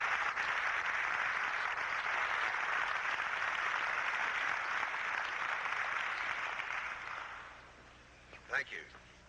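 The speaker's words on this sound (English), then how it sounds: "Let's give a real hand of applause, if you will, to John Quaid." Audience applause at the Preparedness Expo, a broad steady wash of clapping that holds for several seconds, then thins and fades, with a brief voice rising near the end.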